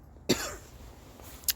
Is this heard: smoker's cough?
yes